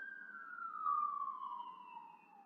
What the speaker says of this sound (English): Okay, ambulance, can you please not? Can you see I'm trying to make a video?